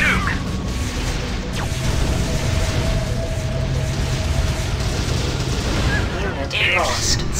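Booming explosions and heavy gunfire from a spice harvester coming under attack in the real-time strategy game Emperor: Battle for Dune, a loud, constant barrage with game voice announcements over it.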